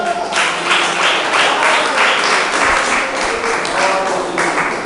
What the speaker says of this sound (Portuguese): Pode louvar a Deus com palmas